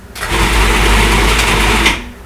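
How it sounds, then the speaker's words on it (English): A food processor kneads lasagna noodle dough as a loud, steady motor whir with a rough, rattling edge from the off-balance load. It runs for about two seconds before cutting out. "your food processor is going to act just like your washing machine when it's out of balance"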